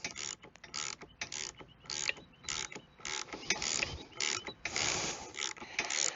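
A wrench works a front strut nut on a 2014 Cadillac Escalade during a shock and strut job, giving close, repeated ratcheting clicks and metallic creaks in short bursts with no talk.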